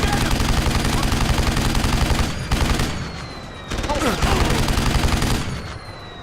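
Sustained automatic gunfire rattles in the video game Deus Ex: Human Revolution, with dense rapid bursts broken by short pauses, loud and close, under a busy mix of other game sounds.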